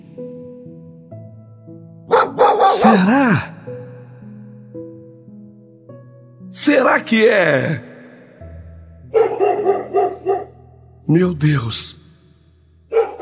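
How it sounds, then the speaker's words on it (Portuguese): Several bursts of firm, loud dog barks spaced a few seconds apart, with a person speaking quietly between them. "Aquele latido firme."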